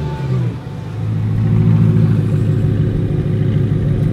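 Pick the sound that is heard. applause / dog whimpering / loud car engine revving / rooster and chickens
loud car engine revving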